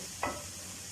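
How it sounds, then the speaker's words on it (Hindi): Chili, paprika, coriander and turmeric powders with salt frying in a pan for butter chicken, heard as a single quick, quiet stir-and-sizzle burst against a low steady background. "सारे मसालों को हम अच्छी तरह भून लेंगे"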